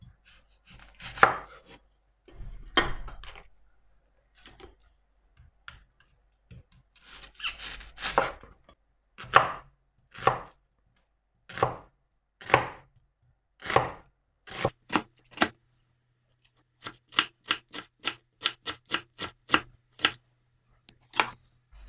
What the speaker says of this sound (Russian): Тоненько нашинкуем лук.